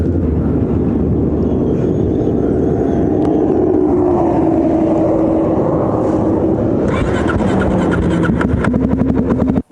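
A Suzuki DRZ400 motorcycle with a poor, clunky gearbox is ridden, its engine droning steadily and rising in pitch, with a rattly, pulsing burst near the end as it shifts and revs.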